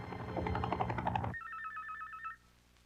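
A cellphone ringtone trills in a repeating electronic pattern for about a second, following a burst of louder mixed noise, then stops.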